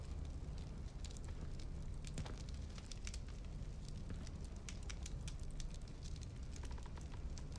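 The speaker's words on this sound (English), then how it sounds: "The crackling fireplace." A crackling fireplace in a dormitory setting, sharp pops and snaps scattered irregularly over a steady low roar, close and constant with no voices.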